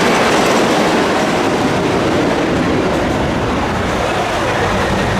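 A wooden roller coaster train running on its track at Knoebels amusement park, a loud continuous rumbling roar with clattering wheels, close and sustained throughout.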